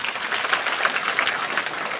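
An audience at a Kannada satsang gathering claps for the village elders: dense, steady applause from many hands, even and continuous for two seconds, with no voices over it.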